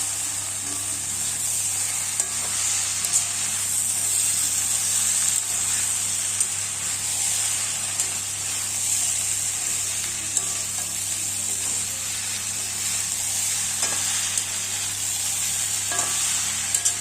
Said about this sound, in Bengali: এখন এটাকে ভালো করে নেড়ে মিশিয়ে নিতে হবে